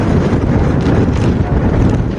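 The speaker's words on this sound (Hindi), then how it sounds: "तेज हवाएं चल रही है।" Strong wind from Cyclone Yaas in West Bengal roars steadily as a loud, continuous rumbling buffet on the microphone, filling the whole stretch with no talk.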